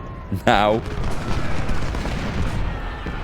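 A brigade volley in the Ultimate General: Civil War game, with a sharp burst of massed musket fire followed by a rolling, rumbling battle din, while someone talks over the action.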